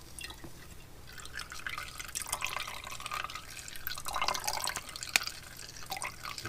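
Watermelon juice being forced through a strainer for chilled watermelon soup, with continuous wet dripping and trickling of liquid and a few sharper splashes, close by and moderately loud.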